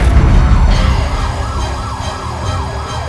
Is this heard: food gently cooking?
no